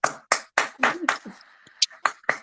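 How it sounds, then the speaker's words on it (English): A morning-show crowd claps in a handful of separate sharp bursts, fairly close, loosely spaced rather than a sustained round, with voices talking faintly in between. "All right, let's clap."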